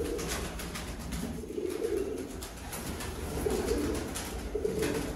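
Sialkoti pigeons on a rooftop loft coo in low, rolling phrases, repeated close by over a steady background hum.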